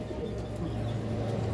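Pigeons coo softly in low, continuous murmuring on a loft farm where old-breed racing pigeons are kept, a steady warm hum with no talking.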